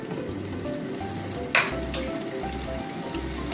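Plum jam made from leftover plum-syrup fruit simmering and sizzling in a pan, a steady bubbling hiss broken by two brief utensil knocks, close and moderate in level.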